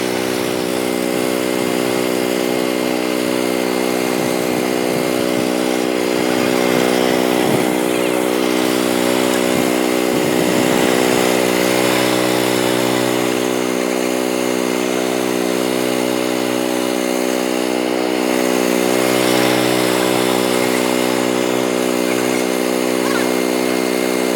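A Cobra Airmow51Pro petrol lawn mower with a Honda engine runs steadily while cutting grass in a garden, a loud continuous engine drone with slight surges in load, and a person talks at times.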